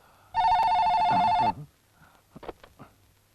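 A telephone rings once in a loud, steady burst about a second long, followed by a few soft clicks and handling noises.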